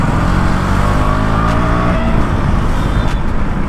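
KTM Duke 200 motorcycle pulling hard in fifth gear during a street drag race against an R15, a loud, steady engine roar with rising harmonic tones throughout, close to the listener and with no talk over it.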